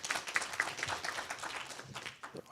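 Audience clapping at a community gathering in a church, steady applause with overlapping claps filling the space at moderate loudness, then thinning out toward the end.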